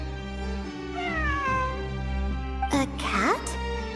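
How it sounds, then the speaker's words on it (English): A cat meows a few times in Genshin Impact, the calls clear and close over a steady droning game soundtrack, with a pause between them. "It really is a cat."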